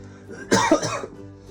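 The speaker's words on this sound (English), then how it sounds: "Sorry about my cough." A single harsh, close cough from someone who is ill bursts out, a brief rough outburst with a second pulse, against quiet background.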